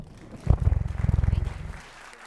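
A short round of applause rises sharply and rattles for about a second before fading, welcoming a new chief judge at an appropriations committee meeting.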